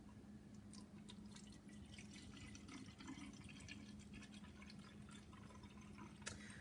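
Homemade surface cleaner is poured into a small spray bottle, a faint, steady trickle and drip of liquid filling the container throughout.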